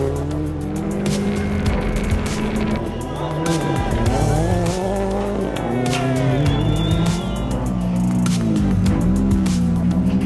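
A Ford Fiesta R5 rally car runs a stage of the Rajd Świdnicki Krause. The engine roars loud and close and its revs swing up and down through gear changes, with tire noise under it throughout.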